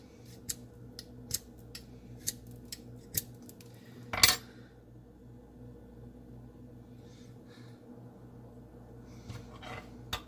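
A knife blade of S35VN steel scrapes and bites into a brass rod, producing sparse sharp metallic clicks and scratches, one louder grinding rasp in the middle, then quiet with a few faint taps.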